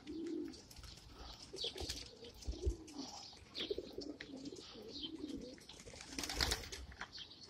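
Pigeons coo steadily throughout a racing pigeon loft housing young colored racers, with soft overlapping calls, occasional chirps and a brief burst of wing flapping near the end, moderately close.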